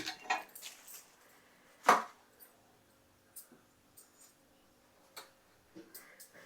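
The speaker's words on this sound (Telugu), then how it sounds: "స్టవ్ వెలిగించుకుందాం" A gas stove being lit in a home kitchen before cooking a ridge gourd curry: one sharp, loud igniter click stands out among scattered fainter ticks and clatters, close by, with pauses of near quiet between them.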